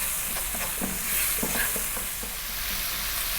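Turmeric, chili, cumin, coriander and garam masala powders sizzle in a hot pan for a tuna fish curry, a steady close frying hiss broken by soft rhythmic scrapes of stirring, with no talking.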